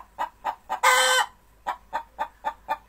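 A hen that has just laid an egg clucks in a steady, close series of short rhythmic calls, broken once by a louder, drawn-out squawk.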